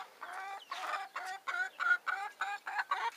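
A turkey hen in a stable squawks repeatedly at close range, a series of about eight harsh, rhythmic calls in quick succession with short pauses between.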